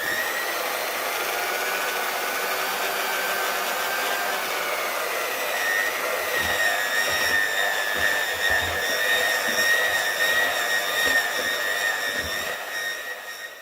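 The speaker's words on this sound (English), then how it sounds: "I'm just going to have a bit more of a mix up with the electric whisk" An electric whisk mixes coffee sponge cake batter with a steady, high motor whine that rises slightly in pitch partway through, close and continuous, with no talking.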